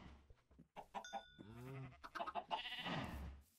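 Sheep bleating in the Minecraft video game, a few short wavering bleats over light game sounds, fairly close and clear with no talk.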